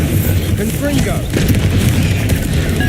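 Repeated blasting-spell explosions from Hogwarts Legacy, Confringo fired again and again in quick succession, booming and crackling densely throughout with a voice calling out the spell name over the blasts.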